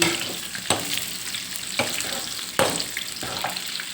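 Fish cakes fry in oil that is not very hot, a continuous close sizzle with bubbling, broken by several brief louder crackles as pieces shift or drop in.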